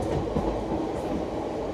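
Steady low rumble of a passenger train hauled by an electric locomotive on the Rajahmundry–Bhimavaram route, heard continuously at moderate level with rolling wheel noise and no voices.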